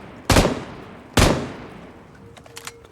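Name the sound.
gunfire in video game BGMI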